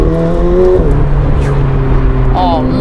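A McLaren 765LT Spider fitted with a Novitec exhaust rolls along a small side road over little bumps, its engine droning loud and steady with a low rumble and shifting tone while someone talks over it.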